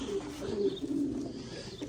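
Pigeons in a loft give low, soft coos, a few overlapping calls close by over light background noise, with no talking.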